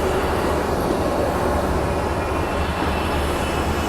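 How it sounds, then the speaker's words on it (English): Amtrak Coast Starlight Train 11, a passenger train led by ALC-42 locomotives, passes close by on the coast line in Oakland, California, giving a loud, steady rumble and rattle of rolling cars with no talk. "So this is Amtrak Coast Starlight Train 11 going to Los Angeles, going on the coast sub."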